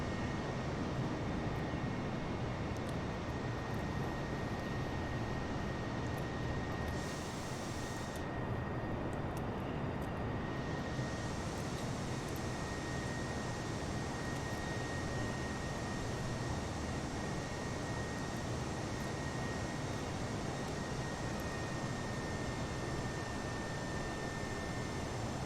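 Airbus A320 jet engines in Microsoft Flight Simulator, on a China Southern Airlines flight from Beijing to Seoul: a steady, loud, broadband roar that holds constant throughout with a faint high tonal whine, briefly dipping in its upper hiss partway through.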